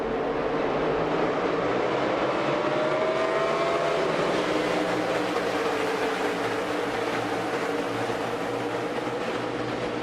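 NASCAR stock cars at speed on the Brickyard 400 green flag at Indianapolis Motor Speedway, a dense, continuous roar of engines with a pitch that sweeps as the pack passes, loud and sustained throughout.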